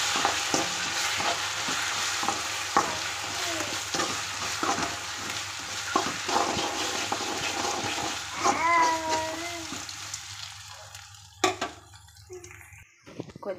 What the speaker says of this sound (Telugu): ఇది పచ్చి వాసన పోయే వరకు ఫ్రై చేయాలి